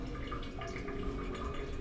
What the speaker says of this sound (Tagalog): Yung tubig. Tumulo.